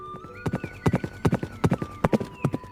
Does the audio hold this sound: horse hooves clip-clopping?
yes